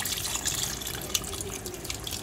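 Tamarind water poured into a pot of curry with fried brinjal, giving a steady splashing, trickling flow for a couple of seconds, close by and alone.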